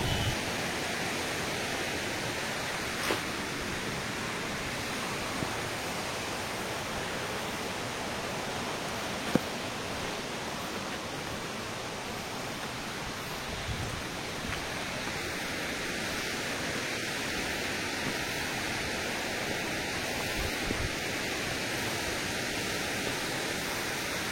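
Gumajharan waterfall near Govindpalli in Malkangiri roars as a constant, dense wash of falling water, steady and enveloping from start to finish with no talking.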